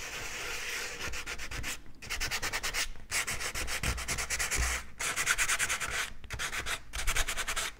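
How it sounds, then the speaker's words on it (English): Sandpaper scrubs rapidly back and forth across a painting's surface to add texture, a close, rhythmic rasping in several bursts separated by short pauses, with no talk. "Now I would like to go in with the sandpaper to get some more textures on these brighter spots."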